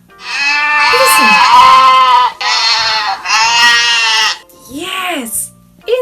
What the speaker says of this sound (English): Yes, it's a goat.